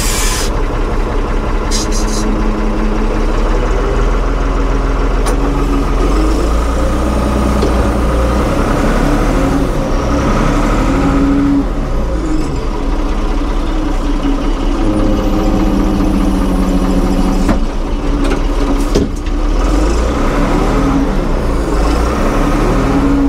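A 1975 Ford 550 backhoe labours up a hill, its diesel engine droning loud and steady throughout, with faint clanks and wheel noise mixed in.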